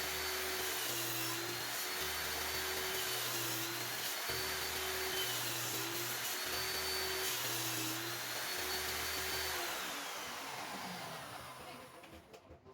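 A table saw with a sled set to 45 degrees cuts slowly through wood for a box joint on a lampshade, giving a loud, steady whining drone throughout that fades out at the end.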